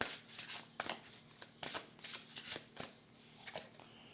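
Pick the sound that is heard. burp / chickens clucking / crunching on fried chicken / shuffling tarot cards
shuffling tarot cards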